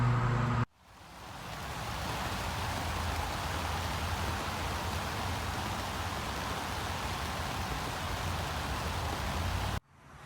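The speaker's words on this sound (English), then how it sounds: "It's just a rainy, gloomy day" Steady rain falls on a gloomy day outdoors, a dense, even hiss of drops hitting surfaces that continues without a break. A faint low rumble sits underneath, and the rain is cut off abruptly at both ends.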